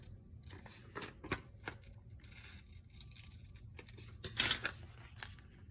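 Scissors snip paper into rounded corners for an art journal, a series of short, close crisp cuts and rustles at an uneven pace, fairly quiet, with no talking.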